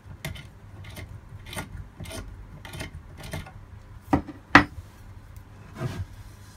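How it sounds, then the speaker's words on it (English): A large drill bit is turned by hand to countersink a drilled hole in a homemade crossbow part, giving repeated short scraping rasps in an uneven rhythm, close and fairly quiet. "just get a large drill and just put a bit of a countersink by hand"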